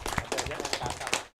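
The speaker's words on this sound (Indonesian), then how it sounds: "sekali lagi tepuk tangan buat Bupati" A crowd at a PWI 2024 awards reception applauds the Bupati, a short burst of dense, close clapping that cuts off abruptly into silence near the end.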